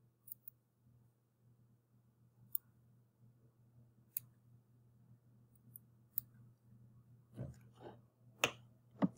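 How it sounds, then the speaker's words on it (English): Small dissection scissors cutting the cornea of a cow eyeball, giving quiet, sparse crisp snips spaced a second or two apart over a low hum, turning into a quicker cluster of louder clicks near the end. "So let's cut into the cornea and remove it. You can use the scissors."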